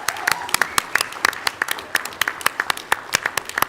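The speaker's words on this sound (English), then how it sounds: "So could we please get a round of applause for that?" Applause at a school board meeting for a state champion student athlete: a modest group clapping in quick, uneven bursts, with individual sharp claps standing out, close and moderately loud.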